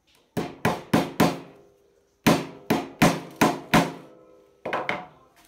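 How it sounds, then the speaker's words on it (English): Hammer blows ring out while an industrial weaving machine, model 737/747/757, is being assembled. They come in three separate bursts of three to four sharp, loud strikes each, with short quiet gaps between the bursts. "We can't just use our hammer anyhow."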